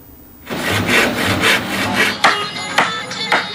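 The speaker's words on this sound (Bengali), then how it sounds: "দিনরাত নৌকা বানানোর ঠুকঠাক ঘসঘস শব্দ, কাঠ কাটা" Steady rasping strokes of a saw or file working wood, repeated rhythmically, followed by a few sharp knocks, close by with no talking, at a wooden boat-building site in Bhairab, Bangladesh.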